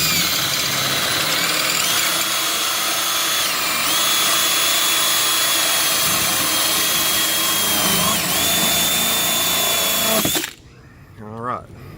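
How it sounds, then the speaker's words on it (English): A power drill whines continuously and loudly at close range for about ten seconds, drilling a hole in the hull of a 1994 Bayliner boat, its pitch wavering slightly, then cuts off abruptly to quiet background. "So now I'm going to go back in forward and finish drilling the hole."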